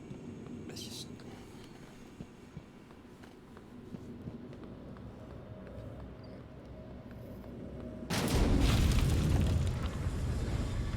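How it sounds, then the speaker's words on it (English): A loud explosion erupts in the sci-fi video game Prey, a broad booming blast after a stretch of low ambient rumble, holding steady near the end. "I heard an explosion."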